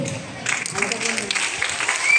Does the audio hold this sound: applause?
yes